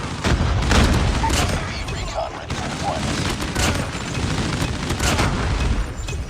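Gunfire in Call of Duty Mobile during a 10 v 10 match on the Shipment map, loud and continuous bursts and booms rolling throughout, with some voices underneath.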